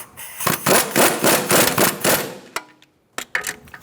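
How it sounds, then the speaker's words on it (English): Rapid pneumatic impact wrench runs down a front axle nut on a 2014-2019 Kia Soul during a wheel bearing job, several loud rattling bursts followed by short clipped hits after a pause. "So let's get our axle nut on as well. Let's tighten this down."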